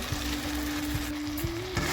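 Dried peas tumble into spice paste frying in oil in a pan while cooking ghugni, giving a steady, close sizzle with a few soft knocks and a faint constant hum behind it.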